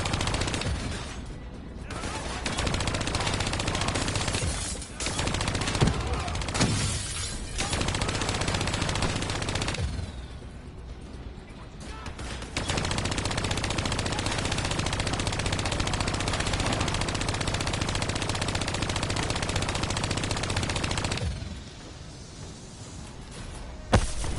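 Sustained automatic gunfire from Call of Duty: Black Ops 3, loud bursts of machine-gun fire running almost continuously with brief lulls, including an attack on enemies protected by turrets.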